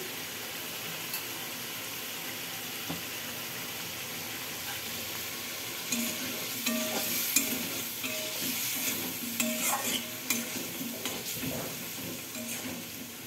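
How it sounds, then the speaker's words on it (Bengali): Cumin and coriander powder stirred into a frying pan for a vegetarian potol (pointed gourd) curry, with a steady sizzle and scraping stirs that grow busier and louder midway, no talking. "এখন আমি জিরা গুঁড়ো আর ধনে গুঁড়ো একসাথে মিশিয়ে দিচ্ছি।"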